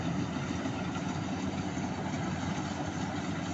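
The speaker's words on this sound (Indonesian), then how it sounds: "Cara kerja dari mesin panen combine harvester adalah padi yang dipotong termasuk jeraminya, semuanya dimasukkan ke bagian perontokan." A combine harvester engine runs while harvesting rice in a paddy field, a steady loud low drone that holds without a break.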